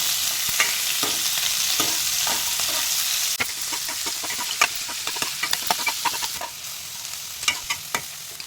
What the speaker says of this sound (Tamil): வெங்காயம் நல்லா கண்ணாடி பதத்துக்கு வதக்கிக்கலாம்.